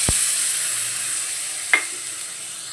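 Ginger, garlic and green chili paste fries in a pan for a rohu fish kachori filling, giving a steady close sizzle with a brief utensil scrape partway through.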